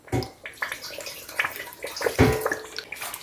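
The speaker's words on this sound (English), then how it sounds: "So I'll add in a little bit of water." Water poured into a cooking pot while jollof rice is being prepared, a short splashing pour with irregular bursts close by, no talking.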